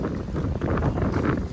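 Steady wind roars and buffets a microphone throughout on Boracay island in poor weather, a dense blustery rumble with no voices.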